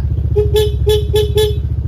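A stock motorcycle horn honks five short times in a quick series, loud and close over the steady rumble of an idling engine.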